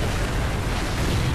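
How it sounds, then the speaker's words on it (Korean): A loud, sustained explosion roar in Resident Evil 4 VR, dense and rumbling with no break, heard up close and without talk. "됐다 폭발하기 시작했어."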